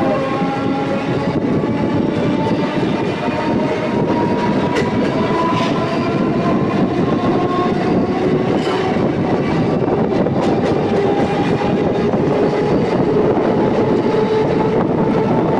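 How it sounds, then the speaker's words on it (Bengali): An EMU local train on the Howrah–Tarakeswar line, pulling out of Liluah toward Belur, roars loudly and steadily with rumbling wheels, rattling carriages and sustained horn-like tones throughout. "বর্তমানে আমাদের এই ট্রেন লিলুয়া ছেড়ে তার পরবর্তী স্টেশন বেলুড় স্টেশনের উদ্দেশ্যে রওনা দিচ্ছে"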